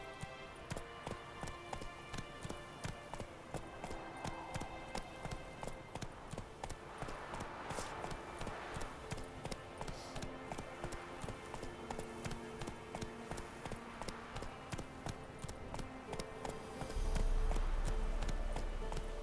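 In-game hooves of the horse Roach trotting in The Witcher 3, an even, moderately quiet clip-clop rhythm running the whole way over soft background music and ambience, swelling briefly near the end.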